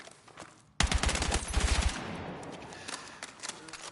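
Rapid automatic gunfire from a weapon in Battlefield 6, a loud close burst of about a second of fast repeated shots followed by a fading echo and scattered softer in-game noises.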